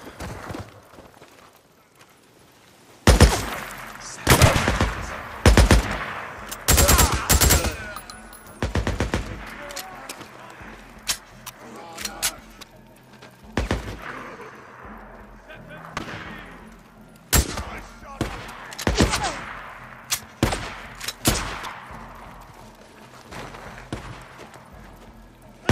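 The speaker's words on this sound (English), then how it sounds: "Somebody shoots back." Days Gone video game gunfire: a series of loud, sharp shots in irregular bursts with pauses for reloading, mixed with a voice talking between volleys.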